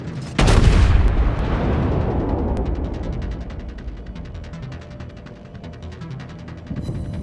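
Naval gunfire from the battleship USS Texas in World of Warships: a single heavy, loud cannon boom that rolls into a long, slowly fading rumble, with faint crackling detail toward the end.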